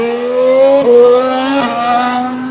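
A Williams Formula 1 car runs at 2015 pre-season testing at Jerez, its engine a loud, steady high-pitched whine that drops sharply twice as it shifts or passes, heard close with no talk.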